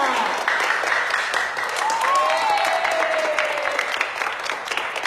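Steady applause from a group of people, with continuous clapping throughout, a gliding voice or whistle-like tone rising over it midway, and light chatter underneath.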